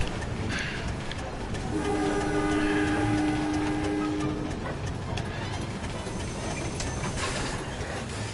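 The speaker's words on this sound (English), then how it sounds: "You get a little train." Rumbling rolling clatter of a little train moving through a level of the MediEvil video game, a steady dense noise with a brief tonal whine in the middle, no talk.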